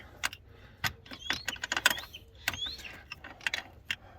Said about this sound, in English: Let's go ahead and go to our 13 millimeter wrench.